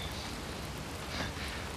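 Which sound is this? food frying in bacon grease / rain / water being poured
rain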